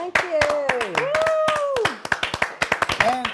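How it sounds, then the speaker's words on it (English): Hands clap in a quick, steady rhythm as a studio audience applauds the crew of a long-running programme's 500th episode, with a singing or speaking voice running over the claps throughout. "So a big round of applause to all of them as they join us"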